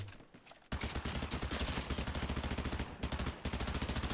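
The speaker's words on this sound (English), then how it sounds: "Somebody's shooting at me" Rapid video game gunfire erupts after a short quiet start, loud and close, sustained volleys that break off briefly around the three-second mark before resuming.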